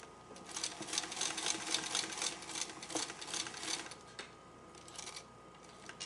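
A sewing machine stitches a curved patchwork quilt seam, its steady mechanical whir and fast needle ticking running continuously at moderate, close level with brief slowdowns.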